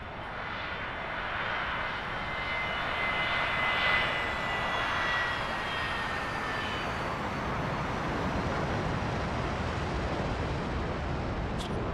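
A-4E Skyhound jet engine in DCS World at a Blue Angels airshow solo practice, a steady whining roar with high turbine tones that swells and drifts past, holding loud throughout with no talk.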